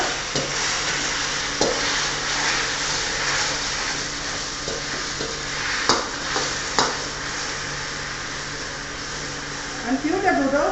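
Drunken noodles (pad kee mao) frying with light and dark soy sauce in a Thai street-food kitchen, with a steady sizzle, occasional clanks of utensil on pan, and brief voices.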